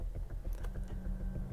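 Typing on a computer keyboard: a brief run of soft, close key clicks in an uneven rhythm over a quiet low hum.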